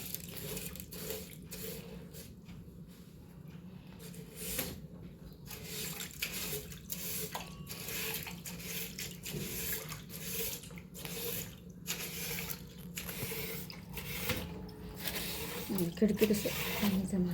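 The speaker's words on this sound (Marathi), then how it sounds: "कापडानी आणि थोडंसं काही ब्रशनी अशा पद्धतीने मी ह्या स्लायडिंगच्या खिडक्यामधलं पाणी काढते" Sliding window tracks are cleaned with water, a cloth and a brush, giving soft wet scrubbing, dripping and splashing sounds up close, while someone talks throughout.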